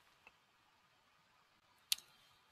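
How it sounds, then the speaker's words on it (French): A single crisp computer mouse click, close and fairly loud against a quiet background, with a fainter tick just before it. "on clique sur Activer"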